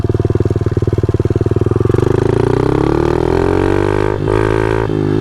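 A motorcycle engine bogs under load, its rapid pulsing throb smoothing and sagging in pitch before briefly cutting out, loud and close with no talk.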